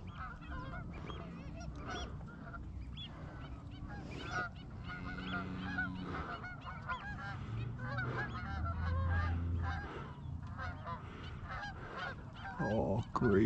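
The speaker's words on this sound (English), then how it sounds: "that's a big mob of geese and another one behind them." A large flock of geese honks continuously in New Zealand, many birds calling over one another at moderate distance.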